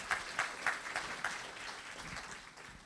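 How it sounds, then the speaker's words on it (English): An audience at a facade cladding and fire safety tech talk claps in a brief burst of applause, a few sharp claps at first that thin out and fade, sounding somewhat distant. "So let's give a round of applause."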